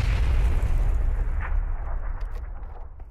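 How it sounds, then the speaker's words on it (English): Grenade explosion in a video game firefight on a stairway: a deep, heavy boom at the start whose low rumble slowly decays, with a faint pop and scattered debris as it trails off. "I think he just threw a grenade at his own buddies"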